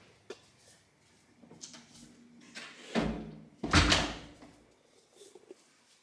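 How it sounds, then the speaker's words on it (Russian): A hotel room entrance door at a Maldives resort villa is handled in a few quiet clicks and thumps, then swings and bangs shut with two louder thuds close by. "Входная дверь."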